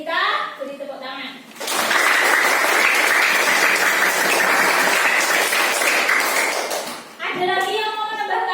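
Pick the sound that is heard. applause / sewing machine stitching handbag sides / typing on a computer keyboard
applause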